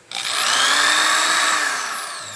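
A corded electric drill runs off a 1000 W pure sine wave solar inverter, spinning up quickly and holding a loud, steady high whine for a couple of seconds before slowly winding down.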